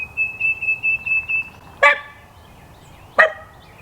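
A bird calls near a boat being cleaned up outdoors, a steady high whistled tone followed by two loud, sharp harsh squawks spaced about a second apart.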